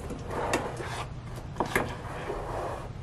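A Dash Mini Waffle Maker lid being lifted open: a soft plastic clack and creak near the start, another pair of sharper clicks midway, over a steady low background hiss with no speech.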